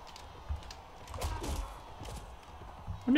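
Horses gallop in the Mount and Blade video game, a muffled run of hoofbeats with a few louder thumps scattered through and a sharper burst near the end.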